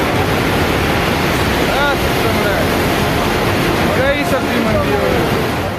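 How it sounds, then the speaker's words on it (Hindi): Raging floodwater surges in a continuous loud roar during heavy rain and landslides in the mountains of Uttarakhand, steady and dense throughout with no pauses. "लहरों ने ऐसा कहर बरपाया कि देखते ही देखते एक विशालकाय इमारत इन लहरों में समा गई।"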